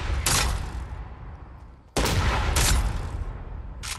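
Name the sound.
proximity grenade launcher shots exploding in Fortnite video game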